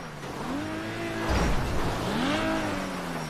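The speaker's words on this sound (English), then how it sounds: "Now I gotta turn my car off. It's really, really loud." A car engine in the video game GTA revs up and down with rising and falling pitch, a brief burst of tire noise in the middle, loud and close.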